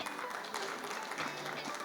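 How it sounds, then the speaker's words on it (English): An audience at a healthcare design panel discussion applauds the panelists, a moderate, steady patter of clapping from a medium-sized crowd over a short stretch, slightly distant and blended with room reverberation. "please have a big round of applause for their contribution"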